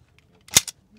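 A TT pistol slide snaps shut to chamber a round after a magazine is inserted, one sharp metallic clack with a small follow-up click, close and loud against near silence.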